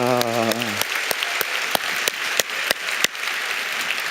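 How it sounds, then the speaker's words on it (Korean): Church congregation at a young adults' worship service applauding the worship team, a sustained loud round of clapping with sharp individual claps, briefly overlapping a voice at the start. "오늘 또 우리 찬양팀들 수고했는데 박수 한번 칩시다"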